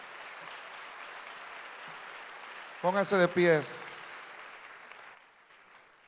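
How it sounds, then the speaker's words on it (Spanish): A church congregation applauds in a sustained, even wash of clapping while a preacher's voice rises briefly over it in the middle. "Denle un aplauso fuerte al Señor, hermanos"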